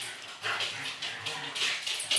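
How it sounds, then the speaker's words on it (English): Several dogs wrestling just outside a door, giving repeated high whimpers and yips in uneven bursts, moderately loud and slightly muffled, with no one speaking. "My dogs are wrestling outside the door."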